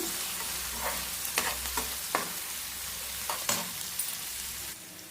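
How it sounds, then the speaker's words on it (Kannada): Onions fry in a pan with lemon juice, sizzling steadily while a spoon stirs and scrapes in a series of short knocks. The sound is close, with no talking. "ಲೆಮನ್ ಹಾಕ್ಕೊಂಡು ಅದನ್ನ ಚೆನ್ನಾಗಿ ಫ್ರೈ ಮಾಡ್ಕೊಳ್ಳೋಣ"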